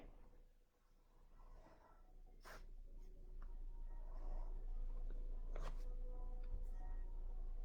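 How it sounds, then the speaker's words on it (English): Pen drawing geode shapes on paper, soft scratchy strokes in short bursts close to the microphone over a quiet low hum. "So then I'm going to draw this in."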